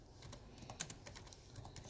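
Quick typing on a computer keyboard: a short burst of faint, light key taps in an uneven rhythm against a quiet background.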